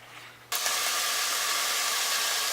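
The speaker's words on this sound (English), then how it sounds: "I have the bacon cooking in a pan. You can hear it sizzling." Cut-up bacon hits a hot pan on the stove and breaks into a bright, steady frying sizzle that starts abruptly and continues as a close, even hiss.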